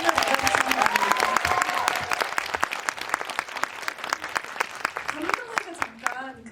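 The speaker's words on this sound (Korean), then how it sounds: "조금 더 큰 박수로 한번 기분을 나눠주시기 바랍니다" Audience applause at a movie talk event with the directors of the film 12.12: The Day, a full burst of clapping that thins into scattered claps toward the end, with some talk over it.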